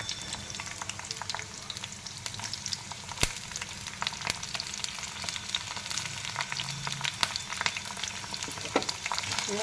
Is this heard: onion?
yes